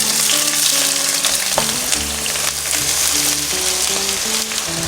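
Onions sizzle loudly and continuously in hot oil for beef varattiyathu, a dense, close frying hiss with faint tonal hums running underneath.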